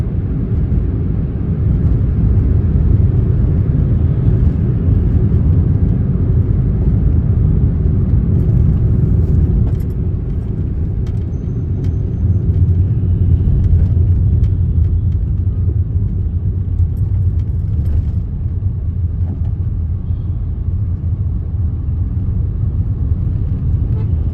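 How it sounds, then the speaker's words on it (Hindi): Heavy morning road traffic in Gurgaon in March, a loud steady rumble of engines and tyres filling the whole stretch, with occasional faint horn toots and no voices. "बहुत सारा ट्रैफिक एकदम से रोड पे आ जाता है"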